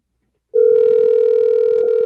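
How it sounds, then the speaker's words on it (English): A telephone line tone starts abruptly and holds loud and steady as an outgoing call is placed during a live radio show, with faint background sounds beneath it. "Let me call our next PNM person right now while we are at it."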